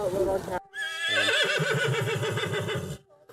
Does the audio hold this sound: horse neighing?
yes